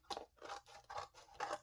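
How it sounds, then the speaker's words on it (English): Scissors slice through paper in four steady, close snips, each a crisp rasping cut with brief pauses between. "And I'm just doing that with scissors."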